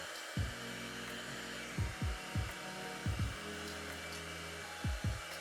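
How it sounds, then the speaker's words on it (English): A handheld hair dryer blows steadily while styling hair with a brush, its constant airy whoosh broken by several soft bumps and thuds, close and alone without talk. "blow dry it so it'll stay"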